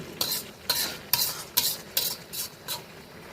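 Slit green chillies frying in oil rendered from mutton fat, with about seven sharp rhythmic stirring scrapes of a spoon against the pan over a faint sizzle.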